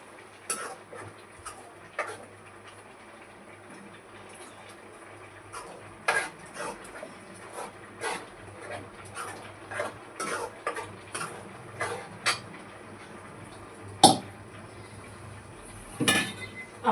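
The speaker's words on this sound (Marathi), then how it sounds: "आता आपण हे याच्यामध्ये घालूया मसाला. आणि याला थोडंसं आपण भाजून देऊया." Spice masala for a spicy black-masala chicken is stirred and roasted in a pan, heard as a faint low sizzle under repeated sharp clicks and scrapes of a spoon against metal at irregular intervals.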